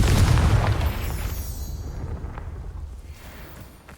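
A Confringo spell explodes in the Hogwarts Legacy video game, one loud deep boom that rumbles and fades away over a few seconds.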